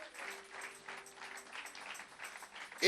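A church congregation claps in praise during an evangelist's sermon. The clapping is faint and somewhat distant, a patter of hands rising and falling, and it swells louder in the last moment.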